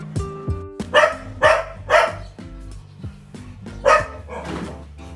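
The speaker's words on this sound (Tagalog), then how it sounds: "Kumakahol si Kula kasi ayaw siyang padaanin ng 4." A dog barks in loud, repeated bursts, about five sharp barks spaced roughly half a second apart, close by, with a few softer yips and whimpers in between and no talk.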